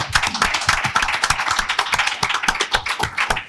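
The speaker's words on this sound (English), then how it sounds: "one more round of applause" An audience at a conference session on war breaks into dense applause, with many hands clapping steadily and loudly throughout.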